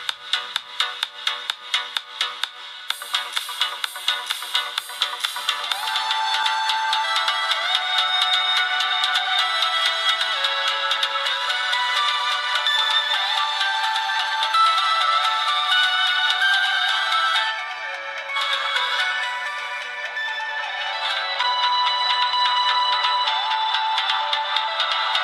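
A ringtone melody plays from the built-in loudspeaker of an Elephone S7 Android phone (Helio X20), loud and steady for about 25 seconds, bright and tinny, with a brief dip near the end.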